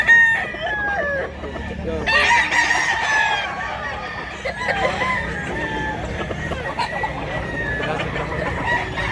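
A rooster crows loudly nearby in a long strained call, with other chickens clucking and crowing around it.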